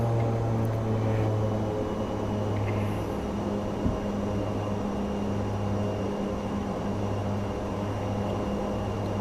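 An ATR 72-600 turboprop at climb power in Microsoft Flight Simulator, a loud, steady cockpit drone of propeller and engine hum with a constant low tone, alone and unbroken throughout.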